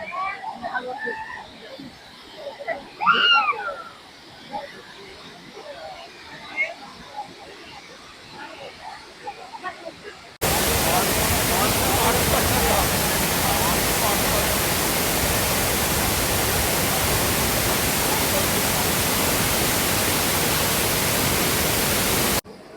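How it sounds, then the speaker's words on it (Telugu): After some distant voices, a loud, constant rush of fast-flowing water fills the scene, like standing close to a highway waterfall at Ramoji Film City, Hyderabad. "వాటర్ అయితే చూస్తున్నారు కదా ఎంత స్పీడ్గా వస్తుందో."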